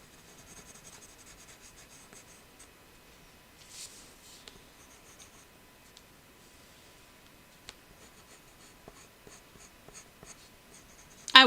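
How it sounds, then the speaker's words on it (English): A dry, old colored pencil scratches across paper in faint, steady scribbling strokes, close and quiet, with a few sharper taps and a louder knock at the very end. "the scooting feeling of a dry, old colored pencil"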